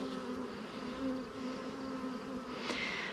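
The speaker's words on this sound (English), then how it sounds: "an opportunity to see our drone bees" Honeybee drones, the male bees of a hive, drone steadily during a hive inspection, a continuous close buzzing hum that holds level for a few seconds.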